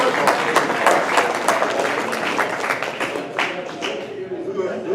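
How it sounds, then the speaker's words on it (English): An audience applauds Rusty and the Clemson football team with a steady round of clapping from many hands, sharp claps standing out over the crowd and tapering slightly near the end. "Let's have a round of applause for Rusty and the Clemson"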